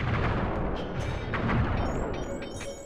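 Fireworks launched at guards in the video game Sly 3: Honor Among Thieves, a loud continuous barrage of booming, crackling bursts with sharp pops layered over a dense rumble, filling the whole stretch without talk.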